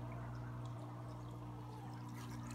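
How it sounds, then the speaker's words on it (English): Small water mover circulating water in a planted aquarium gives a soft, steady trickling and pouring sound over a low constant motor hum, close and quiet. "I got a little water mover right here."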